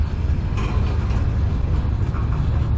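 A CN M385 manifest freight train led by locomotives CN 3044 and CN 3190 rolls past in Sarnia, Ontario, a heavy continuous low rumble with faint wheel clatter, steady and fairly close.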